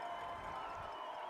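Spectators at a night football game between Atlantic Shores and North Cross at Sportsplex Stadium cheer in a steady, even wash of crowd noise, distant and sustained with no distinct voices standing out.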